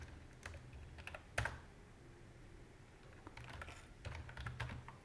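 Quiet typing on a computer keyboard while entering a Linux command: scattered light key taps, then a louder clack and a short pause, followed by a denser run of keystrokes, close and without talk.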